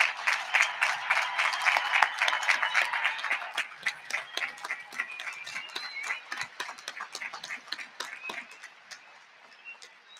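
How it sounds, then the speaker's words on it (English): An audience at a spring 2021 commencement applauds the graduating class, a dense patter of many hands clapping that gradually thins and fades toward the end. "How about we join in giving them a round of applause?"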